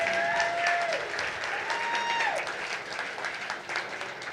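Audience applause at a business pitch night for a departing presenting team, a steady wash of clapping from a mid-sized crowd, moderately distant, with faint tonal whistles or feedback over it.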